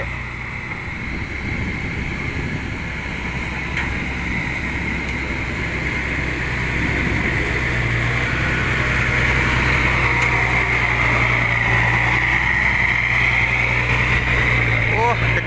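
A dump truck reverses down into a mine pit. Its engine drones low and steady, growing gradually louder and more strained toward the end, with a voice talking over it.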